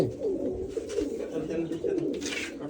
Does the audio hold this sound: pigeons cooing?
yes